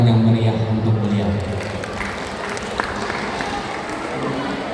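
An audience at a Tahfidz graduation ceremony claps in a dense, lively burst of applause that carries on steadily, with a voice speaking briefly at the start.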